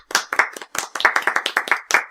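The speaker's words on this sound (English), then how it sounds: "I would like to give us a round of applause" A small group claps hands briefly, a quick uneven patter of claps close by with no voices.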